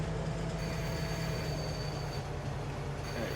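A train running in a farming video game, a steady continuous rumble with a low hum and faint metallic ringing tones throughout, no talking.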